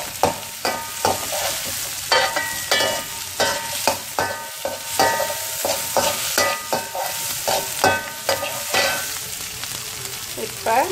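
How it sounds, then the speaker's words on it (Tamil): Small onions and curry leaves sautéing in an oil-filled pan for Tamil egg curry, a steady close sizzle broken by repeated scraping and stirring strokes of a spatula against the pan. "சிறிய வெங்காயம் போட்டு நல்லா பொன்னிறம் வரும் வரை வதக்கிக்குவோம்."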